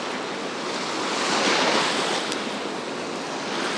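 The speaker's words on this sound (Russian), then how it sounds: "Сегодня на море легкий прибой." Light sea surf washes onto the central beach at Anapa on an overcast day, a steady broadband wash that swells slightly in the middle, with wind buffeting the microphone and no talk.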